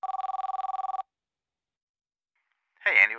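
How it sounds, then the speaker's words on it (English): A telephone handset gives a rapid burst of ringback-style trilling tones, clean and close, then falls silent before a voice briefly speaks. "I pulled my phone from my pocket and I made a phone call."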